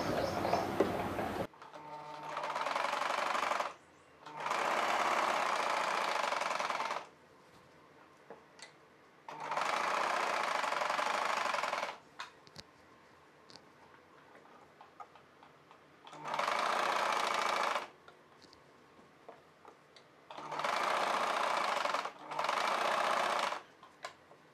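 A sewing machine stitches a three-layer ruffle sleeve onto a blouse, running in several steady bursts of a few seconds each with quiet pauses between, close and clear with no talking.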